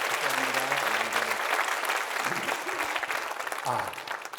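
Church congregation applauding the parents, a dense wash of clapping that holds steady and fairly loud throughout, with a few voices speaking briefly over it.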